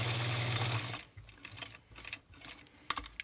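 A sewing machine stitches the last corner of a cotton mask near its elastic: a steady whirring run for about a second, then softer intermittent clicks and short mechanical bursts, with no talk.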